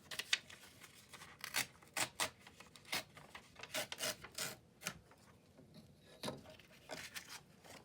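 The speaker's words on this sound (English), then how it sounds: "So I'm gonna cut it right there." Scissors cut through paper in a run of quick, crisp snips and rasping strokes, close and fairly quiet, with no talking.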